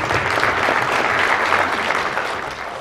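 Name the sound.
audience applause at crypto conference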